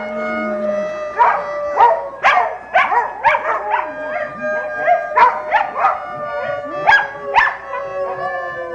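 Several dogs howl and yip together, their wavering cries rising and overlapping along with violin playing in a house, loud and close, with no talk over them.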